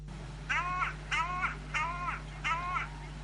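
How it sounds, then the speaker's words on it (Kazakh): A hooded crow gives four drawn-out, harmonic caws in a steady rhythm, each about a third of a second long, carrying clearly through still, foggy morning air over a low steady hum. "Алла деп азан шақырған құстың дауысы тұнық ауада шартарапқа жақсы естілетінін айтады"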